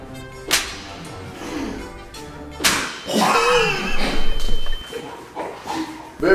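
Several sharp slapping cracks ring out, loud and close, spaced apart amid scuffling noise and a dog yipping in the background, during a silent library challenge.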